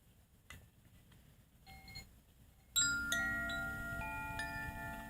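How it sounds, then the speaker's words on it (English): A few faint tinkles, then a bright chime struck once and left ringing, its clear tones sustaining and slowly fading in a quiet room. "Yes, let's do another chime."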